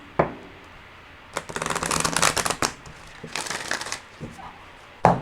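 A large tarot deck being shuffled by hand, with two long riffling bursts of crisp card flutter separated by pauses and framed by sharp taps of the deck being squared up, close and clear.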